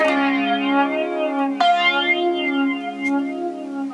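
A sustained synth tone swept by a smooth, slowly cycling sine-wave flanger effect from a Moogerfooger MF-108M Cluster Flux, with a sharp click partway through and another faint tick later.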